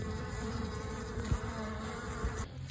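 Honey bees buzz inside an open beehive during a routine hive inspection, a steady, close, continuous drone with a couple of faint knocks.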